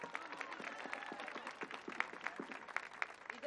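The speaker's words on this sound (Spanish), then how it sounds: "El aplauso fuerte, que se escuche," A concert audience gives a round of applause, steady dense clapping with scattered louder claps, heard from a distance and fairly faint.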